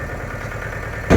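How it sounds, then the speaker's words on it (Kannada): A tractor engine idles with a steady low throb while its hydraulic lift rises, ending in a brief louder surge. "ಟ್ರ್ಯಾಕ್ಟರ್ ಲಿಫ್ಟ್ ಯಾವ ರೀತಿಯಾಗಿ ಎತ್ತುತ್ತಿದೆ ನೋಡಿ"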